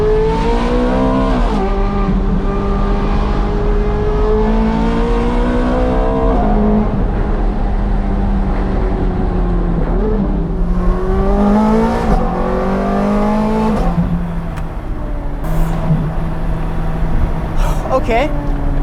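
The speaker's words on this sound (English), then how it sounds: "let's put down the window a little bit and give you some more of this exhaust note" Ferrari 430 Scuderia driven hard on a canyon road with the window partly down, its loud exhaust rising and falling through repeated revs and shifts, sharp crackles between pulls, close and continuous.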